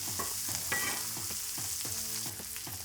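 Peppers and onions are stirred on a hot Blackstone griddle, giving a continuous bright sizzle with a run of rhythmic scraping strokes from the spatula, close and fairly loud.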